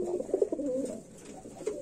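A Lakkha pigeon at a pigeon market coos close by in a soft, low, rolling burst, then briefly again near the end of a short moment, with no talking over it.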